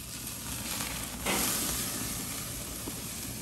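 Chuck roast searing in a hot pan to build a crust, a steady loud sizzle with a brief surge of hissing partway through.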